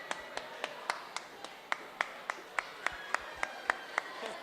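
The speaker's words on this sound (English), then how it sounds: "Please give her a round of applause." Sparse, faint clapping at a social media awards ceremony: a steady series of about fifteen distinct hand claps, evenly spaced, with little else underneath.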